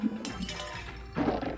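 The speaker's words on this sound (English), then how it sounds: "Get smashed through these glass things," Glass panes shatter in the video game Pig Eat Ball, with two bright crashing bursts at the start and near the end, separated by a brief quieter stretch of tinkling debris.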